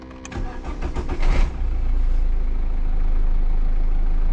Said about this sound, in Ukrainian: Машина працює, завелась.